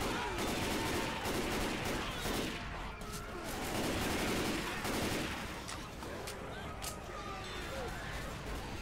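Rapid bursts of gunfire in Left 4 Dead 2, loud, dense automatic fire in repeated volleys across the whole stretch, with a player's voice talking over it.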